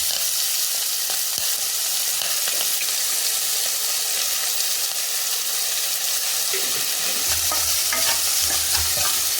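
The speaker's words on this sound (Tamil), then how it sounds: "வெங்காயம், மீடியம் ஃப்ளேம் வச்சு நல்லா வதக்கலாம்." Onions sautéing in oil over a medium flame for a coconut drumstick gravy, a loud continuous close sizzle with occasional stirring scrapes throughout.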